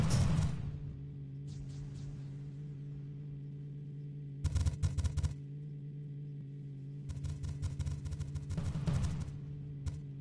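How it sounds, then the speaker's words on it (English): Bursts of machine gun fire in a vehicle-combat video game, several short rapid volleys over a steady engine drone, fairly close and moderately loud. "I'm at half ammo on my machine guns."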